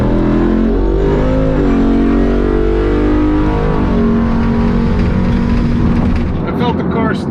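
A drag racing car launches down the strip with a loud engine roar whose pitch climbs in stepped gear changes, then fades toward the end, while a voice speaks over it.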